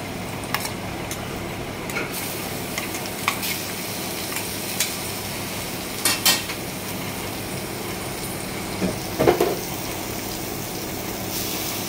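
Poha being stirred in a pan with green chili paste, a steady soft scraping and faint sizzle with a few louder knocks of the spoon against the pan, no talk.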